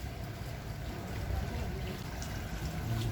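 Steady, faint splash and trickle of a water fountain in the garden of Chiang Mai railway station, a soft continuous wash of falling water with no voices.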